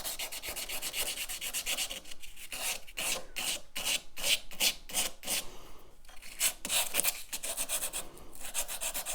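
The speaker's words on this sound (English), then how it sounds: "I'm turning as I sand so that I can get an even sand on all of the pointed area" Rhythmic back-and-forth rasping of 400-grit sandpaper rubbed by hand against a steel drill bit's point, quick repeated strokes with brief pauses, close and fairly loud.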